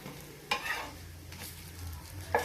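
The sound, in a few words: food simmering and sizzling in a pan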